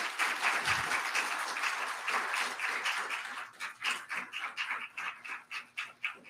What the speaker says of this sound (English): Please, yes, please applaud